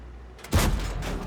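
A single tank gun shot in the video game World of Tanks, a sudden booming blast that rolls on into a fading rumble after a quiet lead-in.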